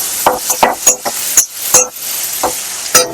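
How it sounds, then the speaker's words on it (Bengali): Marinated shrimp fry in a pan as a spoon stirs them, making close, rhythmic scrapes and clinks against the metal over a constant sizzle, with about a dozen distinct strokes. "চিংড়ি মাছটা আমার ভাজা হয়ে গেছে লাল লাল করে"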